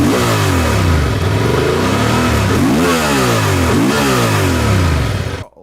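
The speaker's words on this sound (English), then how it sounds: "755cc parallel twin with a 270-degree crank. You start to apply the throttle." A Honda Transalp's 755cc parallel-twin with a 270-degree crank revs under throttle, its engine note sweeping up and falling back in repeated blips, loud and close with no talk over it.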